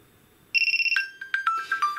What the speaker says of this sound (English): so I can dismiss that alarm